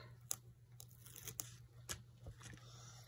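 Tear tape backing peeled up from a paper flap while making a DIY keepsake mini journal, heard as a few soft, brief crackling tears spread over a few seconds against a low steady hum.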